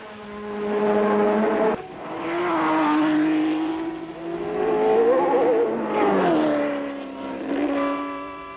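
1967 Formula 1 race cars at the Nürburgring whine through rising and falling revs as they pass close by one after another, each engine note swelling and fading with gear changes.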